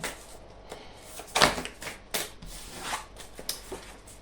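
Tarot cards are handled and drawn up close, with soft shuffling, sliding and flicking sounds in scattered short bursts against a quiet room.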